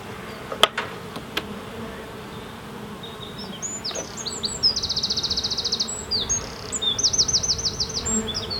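Honey bees buzz around an open hive during a spring inspection, giving a steady low hum with close, louder insect buzzes that come and go in the second half, and a few faint knocks near the start.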